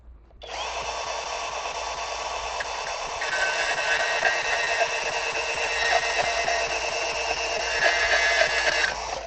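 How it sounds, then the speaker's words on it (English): A bandsaw runs steadily as it cuts through a wooden post for a greenhouse wall, a loud continuous whine that grows slightly heavier midway through the cut, with no talking. "it's a bandsaw. So I can cut anything this width here."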